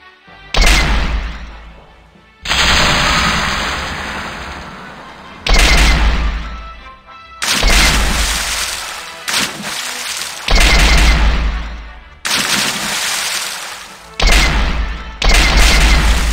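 Repeated loud booming cannon blasts in The Curse of Monkey Island, each followed by a long rumbling decay, firing at irregular intervals with brief quiet gaps between.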